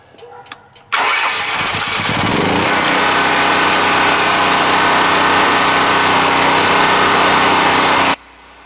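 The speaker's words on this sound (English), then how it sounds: "so I may have to reduce the volume of the generator during that process" A Dewalt DXGNR7000 7000-watt commercial generator starts after a few clicks and then runs loud and steady at close range before cutting off abruptly.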